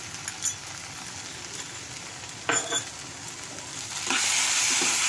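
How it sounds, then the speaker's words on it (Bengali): Spices with Kashmiri red chilli fry and sizzle in a pan while a spoon stirs, soft scraping strokes over a faint steady crackle that grows brighter and louder toward the end. "দেখুন নাড়াচাড়া করছি।"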